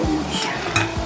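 Small leafy vegetables sizzle in a hot pan while a utensil stirs them, a brief close scrape and toss over the steady frying hiss.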